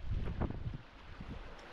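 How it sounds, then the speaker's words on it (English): Strong wind buffeting the microphone on the rocky coast at Malta's northernmost point near Coral Bay, a rough, uneven low rumble with gusts and no voices. "Let's then find some nice way in as the wind blows heavily now."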